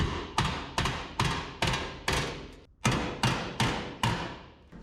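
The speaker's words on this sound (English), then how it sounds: "We just got to hammer it back." A hammer striking a metal body panel on a 1967 Toyota pickup, about ten loud, ringing blows in a steady rhythm with one short pause, close up and without talk.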